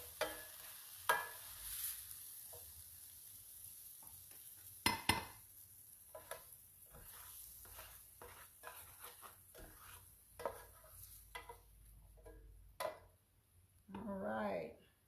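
Fish frying and being stirred in a pan, with soft sizzling running underneath and scattered scrapes, clinks and sharp knocks of utensils against cookware, ending in a brief denser burst of sizzle.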